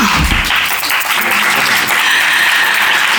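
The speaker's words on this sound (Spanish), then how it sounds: "le damos ese aplauso" Loud, steady applause from an audience at a conference, close and continuous for a few seconds with no talking.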